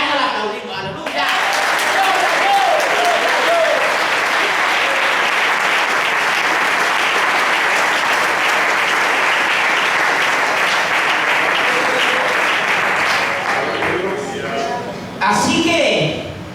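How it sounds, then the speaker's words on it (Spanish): A church congregation breaks into sustained, loud applause that fills the room for well over ten seconds before tapering off, with a short burst of clapping and voices near the end. "Y los hijos de Dios en esta mañana la aplaudimos."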